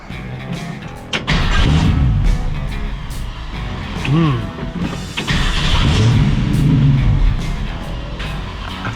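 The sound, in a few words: 1965 Ford Mustang restomod engine running at idle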